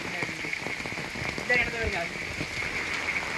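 Rainwater flowing and gurgling into a round village well after rain, a steady splashing rush of running water, fairly close with no voices.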